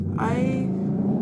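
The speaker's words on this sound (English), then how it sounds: "Someone has a motorbike apparently." A motorbike engine revs in the background outdoors, a low throbbing rumble with a rising whine that swells and then eases, heard from a distance.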